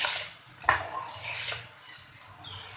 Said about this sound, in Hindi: अच्छी तरीके से इसकी भुनाई करेंगे